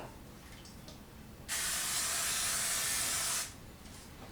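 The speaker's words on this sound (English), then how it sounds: "take some non-stick cooking spray" Non-stick cooking spray hisses onto a tray in one steady two-second burst, loud and close, with quiet kitchen room sound before and after.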